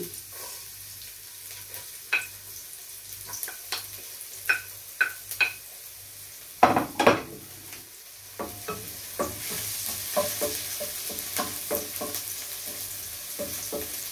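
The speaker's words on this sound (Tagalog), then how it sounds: "Pag mainit ng mantika, saka ko na ilalagay ang bawang." Garlic frying in hot cooking oil for a beef ragout, with a steady sizzle and intermittent stirring clicks, a loud burst midway as the garlic goes in, then a fuller, denser sizzle continuing.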